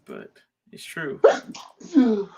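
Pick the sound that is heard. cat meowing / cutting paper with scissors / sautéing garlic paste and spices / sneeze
sneeze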